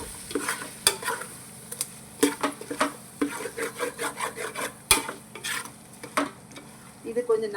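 A spoon scrapes and stirs tomatoes and onions frying in a pan for chicken biryani, giving irregular close clinks and scrapes over a soft continuous sizzle, with no talking.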